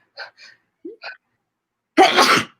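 A few soft breathy catches build up, then one loud, sharp sneeze bursts out close by.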